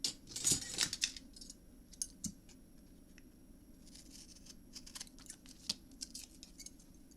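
Scissors snipping out bits of paper during a nursery craft project, a quick run of crisp close cuts at the start followed by scattered lighter snips and rustles, with no talking.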